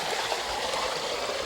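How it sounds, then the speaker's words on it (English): Water rushes steadily through a cement-lined irrigation flume carrying the flow across a ravine in a lush Molokaʻi valley, a constant close hiss and gurgle with no voices. "flume is just a bridge that's box covered, and it transports water over gulches or ravines"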